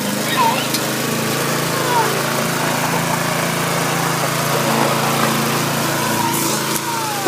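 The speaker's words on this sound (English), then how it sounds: "we got our lawnmower's just been fixed and it's smoking like we're in foggy." A freshly repaired lawn mower engine that is smoking heavily runs steadily outdoors, a loud continuous buzzing drone with a constant pitch.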